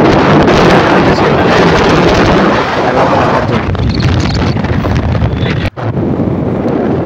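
Strong seaside wind buffets the microphone in a loud, continuous roar, with a brief dip near the end and no talk.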